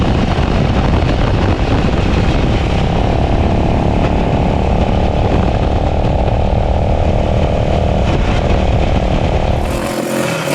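A restored 1973 Ducati 350 Desmo single-cylinder motorcycle runs loud and close, with a continuous raspy engine roar that holds steady before cutting off abruptly at the end.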